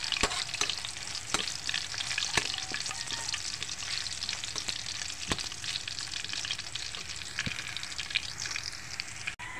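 Garlic frying in a pan for sisig made with galunggong fish, a steady close sizzle with scattered sharp pops and occasional stirring clicks, continuous throughout with no talking.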